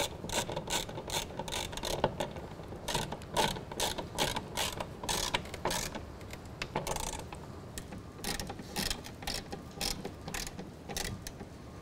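A hand ratchet clicks in quick repeated bursts while tightening bolts on the rail brackets of a BAK Revolver X2 tonneau cover on a 2016 Toyota Tacoma, a steady close-up mechanical clatter with no talk.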